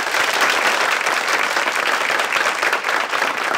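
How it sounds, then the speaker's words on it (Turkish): A studio audience at a Turkish talk show breaks into loud, continuous applause, dense overlapping claps close to the microphone, steady from start to finish with no talk. "Bir alkışlayalım kardeşim."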